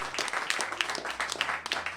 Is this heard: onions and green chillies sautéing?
no